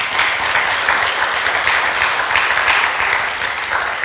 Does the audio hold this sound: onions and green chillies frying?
no